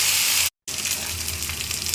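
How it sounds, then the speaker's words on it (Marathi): Mustard seeds crackling and chopped onion frying in hot oil for a tempering, a steady dense sizzle heard up close, broken by a brief half-second silence before the frying resumes. "मोहरी छान तडतडली आहे"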